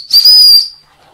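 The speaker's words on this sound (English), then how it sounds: "on the sternum strap, we've got a little emergency whistle" A small emergency whistle on a backpack sternum strap gives one short, loud, high-pitched blast lasting about half a second, heard up close with nothing else around it.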